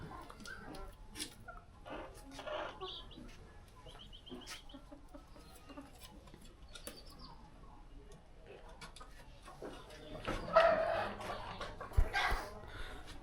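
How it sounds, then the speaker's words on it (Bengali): Chickens in a coop cluck and squawk sporadically at close range, growing louder and busier toward the end, with faint voices and rustling around them. "কবুতর আর মুরগি ঠিকঠাক তাদের নিজেদের জায়গা মতো পৌঁছেছে কিনা"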